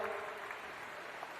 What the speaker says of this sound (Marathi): सुंदर जोरदार टाळ्या होऊ द्या.